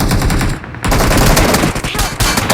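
Loud, dense video game gunfire, rapid automatic bursts that fill the clip nearly without pause, close and dominant.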